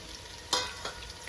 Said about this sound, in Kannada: ಈರುಳ್ಳಿ ಫ್ರೈ ಆಗಲಿ ಎಣ್ಣೆಲಿ ಚೆನ್ನಾಗಿ